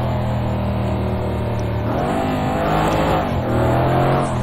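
Mercedes-AMG C63 S engine at full throttle in the Project Cars 2 racing game, a loud continuous roar that climbs and surges through gear changes with a brief dip, steady and close throughout.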